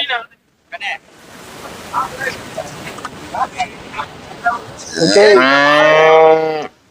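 Cattle at a cow market moo loudly and close for about two seconds near the end, a drawn-out harmonic call following bursts of background crowd chatter and market noise.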